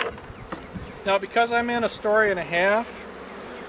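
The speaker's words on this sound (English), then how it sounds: "So I got the bees in there." Package honeybees hum and buzz steadily while being installed in a Langstroth hive, a close, continuous drone heard under someone talking.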